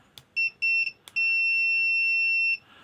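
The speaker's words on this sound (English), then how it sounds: "continuity beep" An Owon XDM1041 multimeter sounds its continuity tester: three short, loud, high-pitched beeps, then one sustained tone of about a second and a half in a quiet room.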